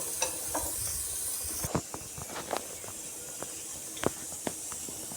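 A thick tamarind chutney bubbles and sizzles steadily in a pan, with soft pops and occasional stirring scrapes close up.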